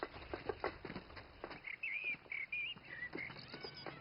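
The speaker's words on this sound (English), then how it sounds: "Listen to that bird." A bird chirps in short, high, repeated calls in the middle of the clip, fairly faint and heard over rustling and scattered soft knocks.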